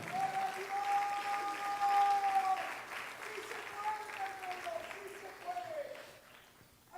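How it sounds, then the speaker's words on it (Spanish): Church congregation applauding during a sermon, a moderate wash of clapping with cheering and a sustained voice over it, fading toward the end. "alguien denle un aplauso a Él"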